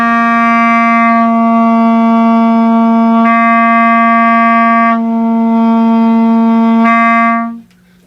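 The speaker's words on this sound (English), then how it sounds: "rest your tongue against the reed very gently while you play. And it creates a little bit of a muffly sound" A reed instrument played with the tongue resting lightly on the reed holds one steady, buzzy, muffled note for several seconds, loud and close, before cutting off.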